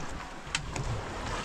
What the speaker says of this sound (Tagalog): Alon lang ang madikinig dito.